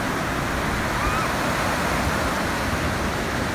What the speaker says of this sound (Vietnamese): nghe tiếng sóng biển đánh mình thấy mát mẻ ghê luôn